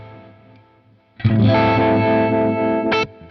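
An electric guitar runs through a Strymon Ultraviolet effects pedal, with quiet notes swelling into a loud, bright, modulated chord that rings out and then cuts off.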